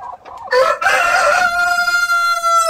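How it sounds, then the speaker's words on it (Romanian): A brown-and-black rooster crows loudly and close by, one full cock-a-doodle-doo with a rising start and a long sustained harmonic tail, alone with no talk. "Cocoș acolo, cocoș e un maro"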